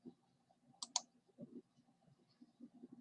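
A few crisp mouse clicks close by while software is installed on a computer, a quick double click standing out against quiet room tone with softer clicks and taps scattered after.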